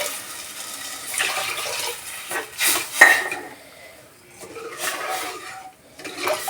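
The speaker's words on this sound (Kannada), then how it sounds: "ನಾನು ಎರಡು ಗ್ಲಾಸಸ್ ನೀರು ಹಾಕೋತಾ ಇದ್ದೀನಿ" Water is poured from a glass into a pot while making pongal in a home kitchen, giving soft splashing bursts mixed with light clinks of dishes and utensils, fairly close and without talk.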